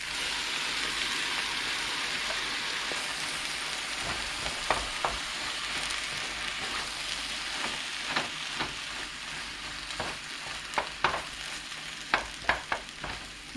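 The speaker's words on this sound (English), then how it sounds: "Now put the chayote back in." Chayote and egg stir-fry sizzles steadily in a pan, with scattered clicks and scrapes of a spatula stirring, growing more frequent toward the end, close and moderately loud.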